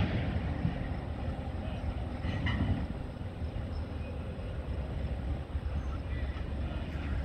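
A freight train rolls past in a steady, loud, continuous rumble with wheel and rail noise and no clear beginning or end. Someone talks faintly beneath it.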